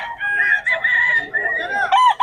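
A rooster crows near the roadside in Bocaue, one loud, close, drawn-out cock-a-doodle-doo with wavering pitch and a final rising burst, standing alone without talking.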